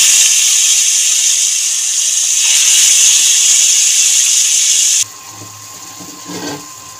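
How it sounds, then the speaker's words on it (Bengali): Masala-spiced fish slides into hot oil in a kadai and sizzles with a loud, steady hiss for about five seconds. The sound then drops sharply to a quieter background crackle. "তেল গরম হয়ে গেছে, আর আগে থেকে আমি যে মশলা মাখিয়ে রেখেছিলাম মাছগুলো এবার আমি দিয়ে দেবো"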